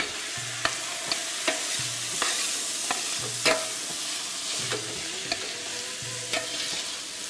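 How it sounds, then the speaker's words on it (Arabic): Rice stirred and toasted in oil and ghee in a pot for Jordanian mansaf, a gentle sizzle running throughout under repeated clinks and scrapes of a spoon against the pot. "طبعا لازم نفلفل الرز ونحمصه مع الزيت والسمنة ونعطيه الملح المناسب."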